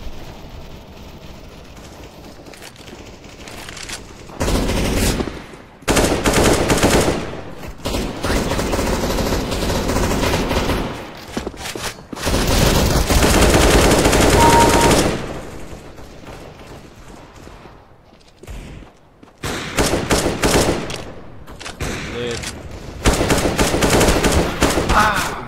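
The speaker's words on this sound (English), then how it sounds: "I just got outgunned by 5-7. With an AK at range." Video game gunfire from CS:GO, a Five-seveN pistol against an AK rifle, comes in loud rapid bursts separated by quieter stretches of game ambience.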